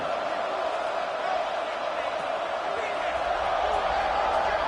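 A large football stadium crowd roars continuously before kickoff in a college game, a dense, sustained wash of cheering with a commentator's voice talking over it.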